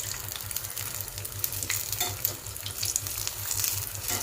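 Aloo masala bajji, potato fritters in spiced batter, frying in hot oil with a steady broadband sizzle and occasional stirring scrapes, close and continuous throughout.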